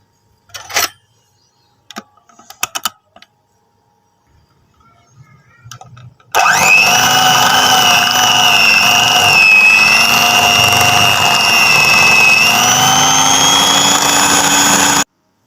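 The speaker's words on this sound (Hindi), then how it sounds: "और अब हम इसको बीट करेंगे इलेक्ट्रिक बीट के साथ।" An electric beater whips cream tinted with Rooh Afza for a bread dessert, starting after a few quiet clinks and then running as a loud, steady motorised whine with a slowly shifting pitch until the clip ends.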